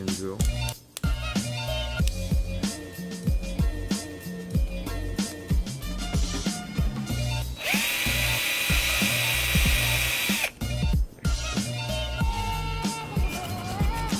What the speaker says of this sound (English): Let me actually put it in drill.